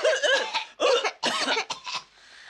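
Someone coughs repeatedly in a close, harsh fit of several bursts, with short gaps between them.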